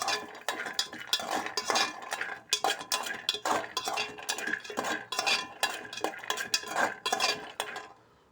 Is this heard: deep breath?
no